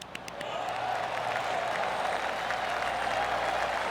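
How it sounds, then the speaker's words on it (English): Steady applause from a golf gallery in the PGA Tour 2K25 video game at TPC River Highlands during the Travelers Championship, a sustained even clapping that swells quickly and holds at moderate volume. "That deserves a golf clap."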